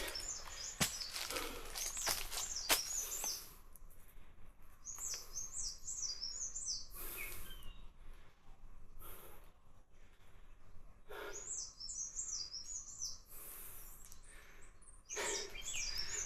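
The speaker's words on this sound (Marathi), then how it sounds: "इथे रती पक्ष्यांच्या सुमधुर अशा आवाजाची," Birds sing in a forest on the Jor to Mahabaleshwar trek, repeated bright, warbling phrases, some near and some further off, with occasional rustling bursts between them in a quiet setting.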